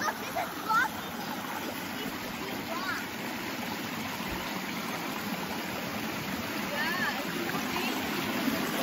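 Creek water runs steadily over stones, a continuous broadband rushing that stays even throughout, with people talking faintly over it.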